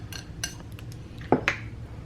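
Drained ingredients for a keto appetizer tip into a bowl holding jicama, giving a couple of quick utensil-and-bowl clinks near the end over an otherwise quiet kitchen background.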